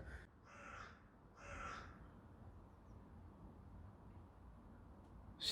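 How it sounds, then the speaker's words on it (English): Two loud, hoarse caws from a crow ring out close by in quick succession, then a quiet outdoor stretch with a faint chirp at the end. "Strange bird."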